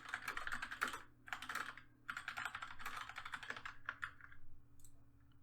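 Typing text on a computer keyboard, steady bursts of close, clattering keystrokes with brief pauses between phrases over a faint room hum.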